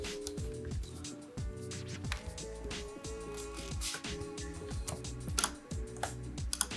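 Quiet, rapid keyboard typing with irregular clicks close up over a soft tonal background, entering a Wi-Fi password while setting up a Dahua HFW1435-W IP camera.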